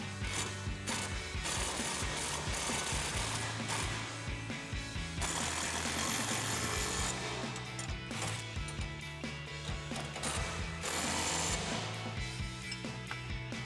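An impact wrench with a 19mm socket tightens nuts on a heavy-duty grille guard for a 2020-2023 Silverado 2500, firing in loud rattling bursts separated by short pauses, with clanking metal between.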